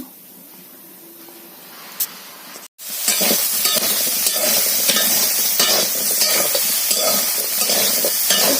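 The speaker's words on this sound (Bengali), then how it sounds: "সোয়াবিন আলুটা ভাজার জন্য কড়াইয়ের মধ্যে দিয়ে দিচ্ছি এই দেখতে পাচ্ছি ভাজছি" Soybean chunks and potato hit hot oil in a wok over a cooking fire. A quiet stretch is broken by a sudden loud, harsh sizzle that keeps going evenly, with occasional stirring scrapes.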